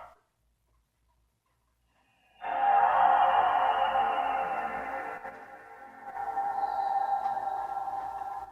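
A malfunctioning PlayStation 2 console, loaded with Red Faction 2, emits a loud, steady mechanical whine that starts abruptly, dips briefly, then swells again and keeps droning, with no talking over it.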